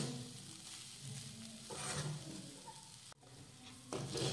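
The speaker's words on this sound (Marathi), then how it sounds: "मंद आचेवर साधारण 4 ते 5 मिनिटं परतून घेऊयात" Grated fresh coconut stirred and fried on a low flame for coconut burfi, giving a continuous close sizzle with soft scraping strokes and one brief dip partway through.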